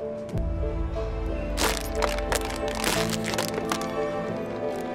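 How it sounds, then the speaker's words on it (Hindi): A plastic bottle cap is pushed down into a plastic water bottle, producing sharp crackling snaps and crunches of stressed plastic, close and fairly loud, several bursts spread over a few seconds without speech. "इस ढक्कन को ऐसे दबा के इसके अंदर डाल दीजिए"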